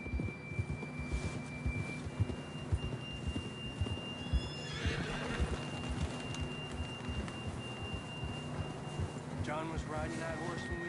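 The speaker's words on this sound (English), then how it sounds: "John was riding that horse when we left Blackwater." A horse in the video game Red Dead Redemption 2 whinnies loudly, with hooves clopping along a trail, under a soft ambient hum, and a brief voice is heard.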